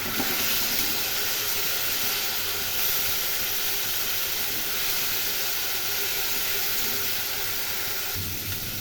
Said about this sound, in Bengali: এখন এর মধ্যে দুটি কাঁচা লঙ্কা দিলাম ও জল দিয়ে দিলাম